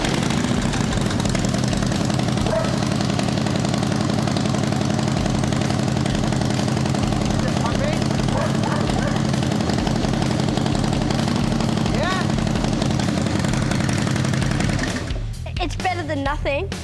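A Harley-Davidson engine fitted to a drift trike idles with a steady, loud, rapid chugging throb that runs unbroken for about fifteen seconds, then fades into clattering noise at the end, with no clear talk over it.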